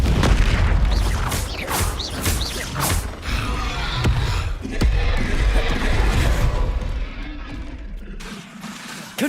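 Fire spell blasts and crashing impacts in the Hogwarts Legacy video game, a series of booming bursts with creaks and debris over several seconds, loud and close.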